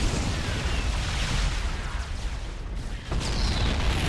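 Heavy booming blast of a Yamato cannon and exploding ship in StarCraft: Heart of the Swarm, a loud sustained roar with crackling debris, a brief dip, then another surge of rumbling explosion.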